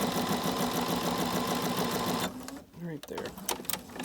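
Sewing machine stitching a homemade cloth face mask, a fast even mechanical whir for about two seconds that then stops, followed by someone talking.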